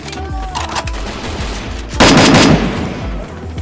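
Gunfire in a battle royale video game guild war match, a series of sharp gunshots with a heavier burst in the middle, loud and close.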